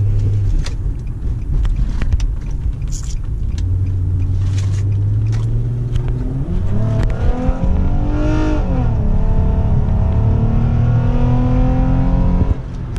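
A Chevrolet Impala SS with an erratic transmission, its engine rumbling loud and close, then revving upward as it shifts oddly around the middle before settling into a steadier drone, with no talking.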